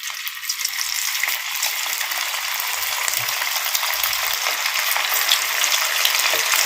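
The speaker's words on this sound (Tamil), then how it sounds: "ஸோ இப்போ நம்ம எண்ணெயில் போட்டு நல்லா வந்து டீப் ஃப்ரை பண்ணியாச்சு." Marinated bitter gourd deep fries in hot oil, producing a continuous dense bubbling sizzle, close and steady with faint clinks underneath.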